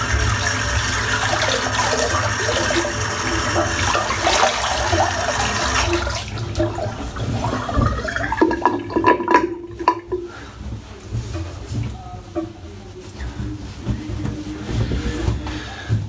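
Water drains out of a sink, a steady gurgling rush that fades after several seconds into trickles and faint clinks, heard close with no talk.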